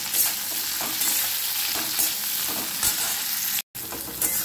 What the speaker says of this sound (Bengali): এবারে করলাগুলো ভাজা হয়ে গেছে, করলাগুলো আমি তুলে নেব